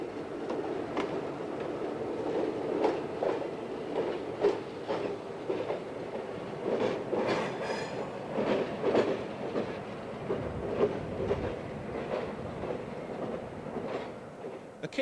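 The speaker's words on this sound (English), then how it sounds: "Engineer Jim Beringer departs for Peaburg with the empties." A Lehigh Valley freight train hauling empty ore cars rolls out, its wheels clicking steadily over rail joints with periodic clanks and a low rumble, heard from nearby and without voices.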